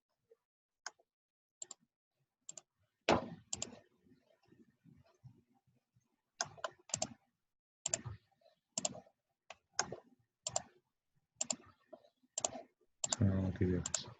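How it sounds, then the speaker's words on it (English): A computer mouse clicks on a trading platform in sharp, isolated taps spread at irregular intervals, some in quick pairs, with faint murmured talk between them. "if I want to set my stop and target, I'll just click at the zone."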